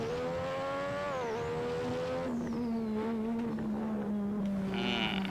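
Race car engine in the Assetto Corsa driving game, a continuous loud engine whine that climbs, dips through gear shifts and then settles into a lower drone, with no talking.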